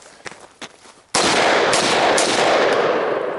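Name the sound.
gunshot fired into a puddle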